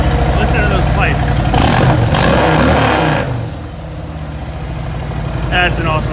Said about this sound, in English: Listen to those pipes.